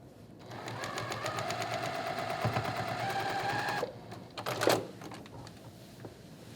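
A sewing machine stitches back over a quilt block seam in a fast, even mechanical whir for several seconds, stops, then gives a short burst and clunk.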